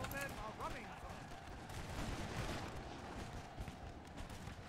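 Musket volleys crackle in a steady, distant roll of overlapping gunfire across a battlefield in the video game Napoleon Total War, dense and sustained rather than sharp single shots.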